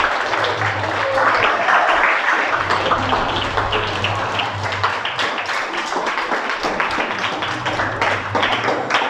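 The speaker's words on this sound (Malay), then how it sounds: "Bagi tepukan pada dia." Clapping from a classroom audience for a student at an Arabic language session, a dense patter of hands that runs steadily for several seconds with a low hum underneath and no voices.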